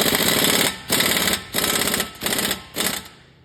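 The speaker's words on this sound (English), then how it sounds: "I'm just going to tighten everything down. First, I'm doing my pinch bolt." A power tool tightens the pinch bolt on the front lower control arm of a 2008-2015 Nissan Rogue, hammering out four or five loud, close rattling bursts separated by brief pauses.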